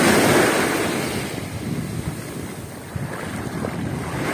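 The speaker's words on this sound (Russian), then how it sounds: "такая вот волнушечка тихая, спокойная" Gentle, calm sea waves washing onto a beach strewn with washed-up debris and branches, a steady low wash with some wind buffeting the microphone, no talk.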